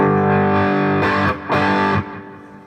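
Electric guitar played through a Blackstar amp on its green channel with distortion, sustained chords ringing out loud and alone, with a brief break and a second strummed chord before the sound stops near the end.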